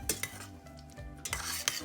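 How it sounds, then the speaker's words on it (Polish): Blueberry fruit sauce for a cake filling bubbles in a pot while a spoon stirs it, with close wet scraping strokes and soft sizzling at an uneven rhythm. "To mi się gotuje."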